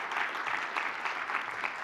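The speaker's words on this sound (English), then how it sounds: "Can we give Shane another round of applause?" A short burst of dense, steady clapping from an audience at a business talk on social media, filling the whole moment with no voices on top.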